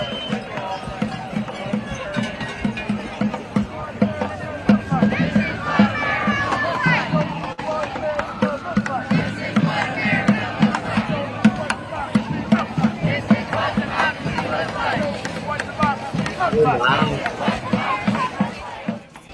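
A small protest crowd at the National Mall in Washington, D.C.: continuous outdoor crowd noise, a loud babble of many voices with shouts and chanting-like calls, filling the whole stretch at close range.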